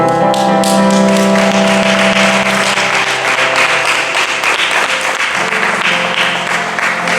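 A church congregation bursting into loud, sustained applause and clapping, with a held musical tone underneath at first, then dense clapping continuing evenly to the end.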